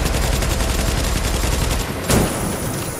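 Rapid automatic gunfire aimed at an enemy tank's weak spot in The Division, a loud continuous burst for about two seconds, a brief pause, then a sharp crack and more scattered shots.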